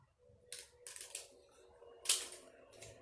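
Paper cut out with scissors for a kids' bug craft, heard as a few quiet, crisp snips spaced irregularly against near silence.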